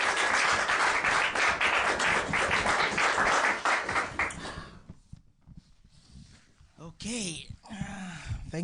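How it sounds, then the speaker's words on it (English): Studio audience on a migrant community talk show applauds a guest invited to the podium, loud sustained clapping for about four seconds that fades out, followed by talking. "A round of applause."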